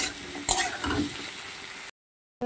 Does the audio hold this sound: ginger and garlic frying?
yes